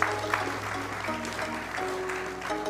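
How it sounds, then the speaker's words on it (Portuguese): A studio audience on a Chinese New Year television cooking segment gives a short, fairly soft round of applause, with steady tonal music sounding underneath. "Um aplauso para os dois."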